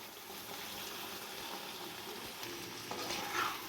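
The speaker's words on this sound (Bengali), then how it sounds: "এই পরিস্থিতিতে আমি দিয়ে দেব ভিজিয়ে রাখা চালটা" Soaked, drained rice goes into a hot pan of chicken and gravy, giving a steady wet hiss and sizzle with a slight rise in bubbling near the end.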